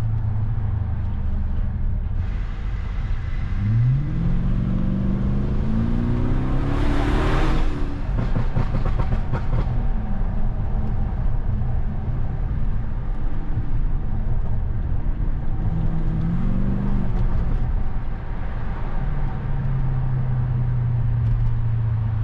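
A BMW 750i with a V8 engine drives through city streets, its engine droning steadily with rising revs and gear changes, blended with road and traffic noise throughout, no voices.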